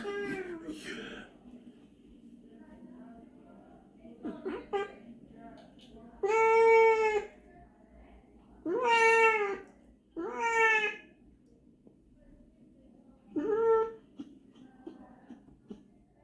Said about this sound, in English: it's the cat meowing